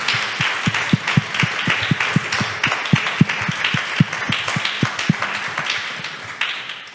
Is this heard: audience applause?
yes